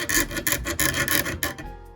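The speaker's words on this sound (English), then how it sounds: "it's not easy sawing either" A jeweller's saw cuts through a sterling silver ring in quick, rhythmic rasping strokes, close and loud with no talk, slowing and fading near the end.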